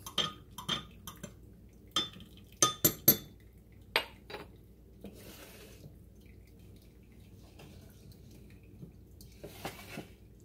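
A spoon clinks against the side of a cup while a drink is stirred, with several sharp, close metallic taps in short bursts followed by quieter clatter and a faint trickle of liquid.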